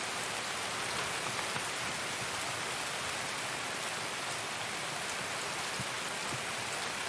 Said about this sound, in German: Scheiß Regen.